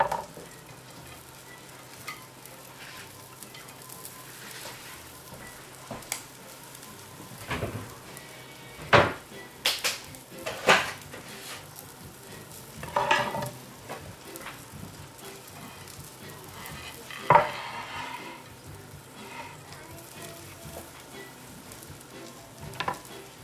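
A bacon and cheese omelet sizzles and fries steadily in a frying pan, with a few louder spatters and clinks of a utensil against the pan along the way.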